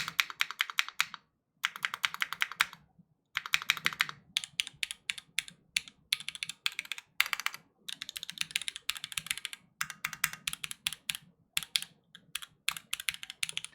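Mechanical keyboard with a hollow-sounding left spacebar being typed on, a long run of crisp close clacks in quick bursts with brief pauses between flurries, no voices.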